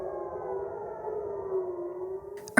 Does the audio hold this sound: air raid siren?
yes